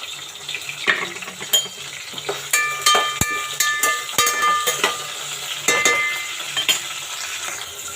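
Green chillies and curry leaves fry in oil in a pot for a pulao, crackling and sizzling under frequent clinks and scrapes of a metal spoon against the vessel, close and lively.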